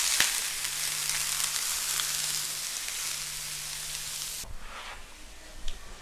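Thinly sliced onions hitting a buttered grill for burgers make a bright, steady sizzle that drops abruptly to a quieter crackle partway through, with a faint low hum under it.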